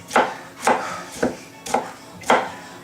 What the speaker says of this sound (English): I'm just going to give this a chop